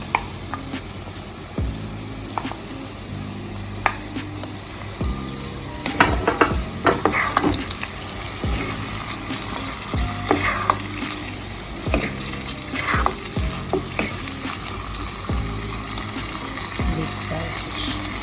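Saltfish tipped into a pan with scallion and garlic, frying with a busy crackling sizzle and repeated scraping and tapping of a spoon being stirred, close and fairly loud, with a little background voice.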